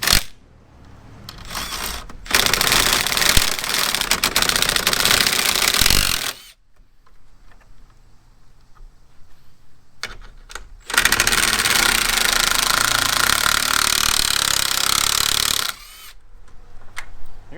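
Impact wrench fitted with a 10mm socket spinning out grille bolts on a Ford Bronco: two long, loud rattling bursts of several seconds each, separated by a quiet pause with small handling clicks.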